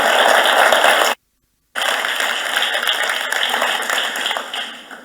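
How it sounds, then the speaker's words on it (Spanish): Applause from an audience at a Spanish-German business meeting, a steady dense wash of clapping that drops out briefly and then resumes, loud and continuing to the end. "Así que un fuerte aplauso, por favor."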